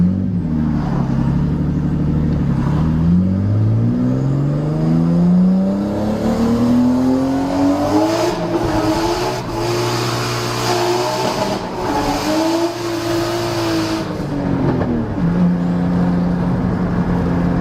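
A Nissan R32 GTR accelerates hard, its engine revving up through several rising sweeps with gear changes, loud and close throughout with no one talking.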